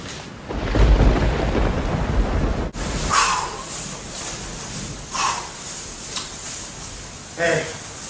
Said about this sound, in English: Wow, it is really storming.